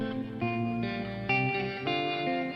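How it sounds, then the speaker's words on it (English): Electric guitar chords drenched in heavy reverb at a band rehearsal, several sustained chords changing every half second or so, full and washy with no voices. "Is it usually so soaked back in the reverb?"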